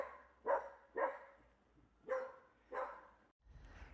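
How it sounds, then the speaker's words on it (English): A dog barks four times at a steady pace, moderately distant and somewhat muffled, followed by a brief low rumble. "You can hear next door's dog."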